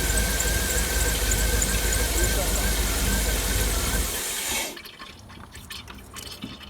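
A 2009 Cadillac Escalade 6.2 V8 with lifter tick, oil hissing and squirting after shutoff: a loud, steady wet hiss and gurgle that cuts off after about four seconds, leaving faint clicks and a quiet background.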